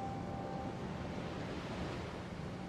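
Ocean surf rolls steadily onto a shore with wind, a continuous broadband wash that stays loud and even throughout, with no voices.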